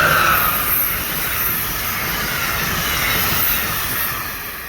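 A loud, steady roar of a train rolling past on tracks right beside a beekeeping yard, a continuous rumbling wash with no breaks.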